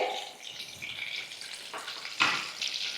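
Cumin seeds hit hot oil and butter in a pan and give off a soft, faint, steady sizzling hiss, with a brief stirring scrape near the end.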